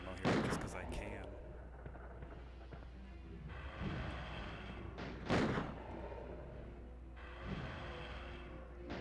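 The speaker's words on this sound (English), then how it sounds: "I'm gonna waste Magnum ammo here just because I can." Several heavy Magnum gunshots in Resident Evil 2 on N64, sharp booming blasts spaced a few seconds apart, fairly faint and mixed with low game ambience and someone talking.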